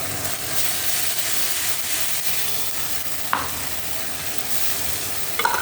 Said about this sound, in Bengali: এই পেস্টটাই ভালো করে কষিয়ে নেবো আগে